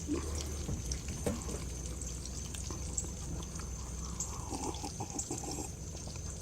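Coffee being poured, a steady liquid stream running for several seconds at close range, unbroken and with no talking over it.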